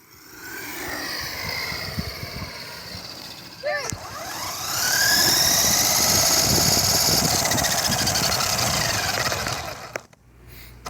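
A hobby-grade and a toy-grade RC car race each other, their electric motors whining loud and close, rising in pitch to a sustained high buzz before cutting off abruptly near the end.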